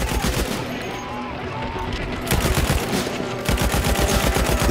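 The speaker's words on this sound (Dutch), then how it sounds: "En blijf schieten." Sustained automatic gunfire from a machine gun in a wartime battle scene, rapid bursts rattling steadily and loudly through most of the stretch, with a brief thinner lull before the firing swells again.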